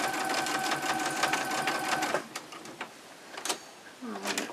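A sewing machine stitches an exposed-core cloth pad in a steady mechanical whir with repeated needle ticks for about two seconds, then stops, leaving scattered clicks and handling noises as the fabric is turned at a sharp corner.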